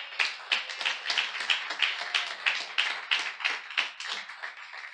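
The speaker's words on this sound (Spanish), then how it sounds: "Démele un aplauso a Jesús." A church congregation claps in a steady rhythmic beat, each clap sharp and evenly spaced, filling the room without voices on top.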